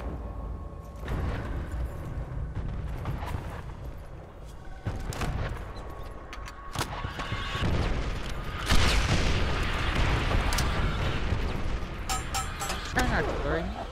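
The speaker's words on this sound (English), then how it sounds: "Our artillery will shake them up." Artillery barrage in Call of Duty: World at War, heavy booms and blasts rolling through a busy battlefield mix of scattered gunfire, with voices talking over the continuous loud din.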